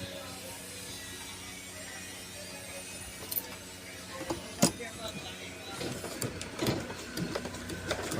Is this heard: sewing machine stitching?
yes